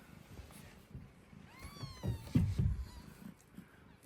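A few thin, high mews from newborn kittens whose eyes are not yet open, over soft rustling and handling noise, fairly close and quiet.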